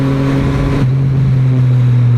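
A Triumph Street Triple 765R triple-cylinder motorcycle engine drones loud and close on the road, its pitch holding and then shifting as the revs drop off under engine braking.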